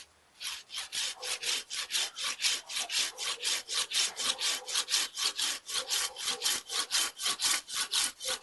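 A Samurai GKC-300-LH pruning saw cutting through a branch of hard hazel wood, about 3–4 cm thick: a fast, steady rhythm of rasping push-pull strokes, close and clear, continuing without pause.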